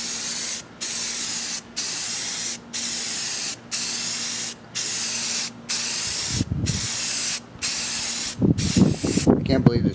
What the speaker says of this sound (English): we're going to use the same gray primer for this as we did in the beginning. And so we'll just go ahead and give it a squirt.